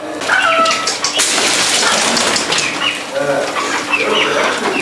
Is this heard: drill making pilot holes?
no